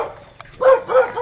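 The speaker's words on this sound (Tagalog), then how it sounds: "May nananahol pa pong aso." A dog barks outdoors along a rural route, a couple of close yelping barks with a short whimpery note before them, loud and alone without talk.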